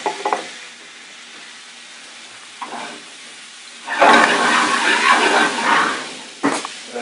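Shrimp and shallot sizzle in a hot frying pan, a soft steady hiss that swells loudly around the middle as the shallot goes in, with a few brief stirring bursts.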